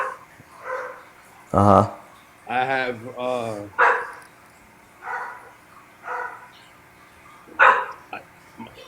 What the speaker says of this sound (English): my dog is here and your dog, one of your dogs